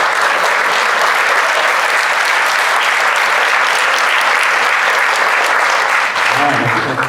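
Loud, dense applause and cheering from a Rotary meeting audience welcoming new members, a sustained wash of clapping filling the room throughout, with a voice faintly audible near the end.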